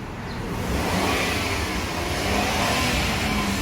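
Maruti Alto K10 engine being revved while checking for oil leaks and exhaust smoke, a steady mid-pitched roar that holds at high revs, close and loud, with no talk.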